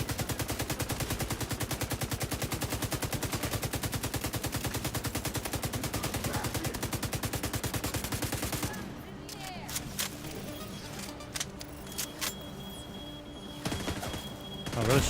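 Sustained rapid light machine gun fire in The Division 2 shooter, a dense continuous burst for about eight seconds, then scattered shots, impacts and game effects with occasional talk.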